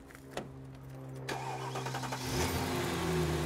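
An old car's engine at a scrapyard cranks with a couple of sharp clicks, catches and settles into a steady, fairly close idle with a slight rise in revs, no voices.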